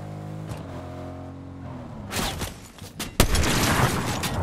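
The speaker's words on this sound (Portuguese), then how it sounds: "Opa, tá tomando tiro." Gunfire erupts in a first-person shooter video game, starting as a low ambient drone and then bursting into loud, dense volleys of shots and booms over the last couple of seconds.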